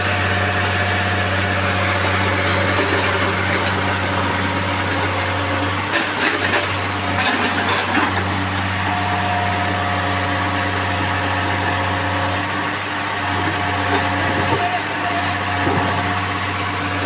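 A Mahindra Bolero stuck in mud runs with a steady, loud, low idling engine drone throughout, with brief rattling and revving bursts partway through.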